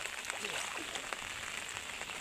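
Rain falling outdoors on a rainy day during fishing, a soft continuous patter of drops on surfaces, faint and even throughout the short stretch.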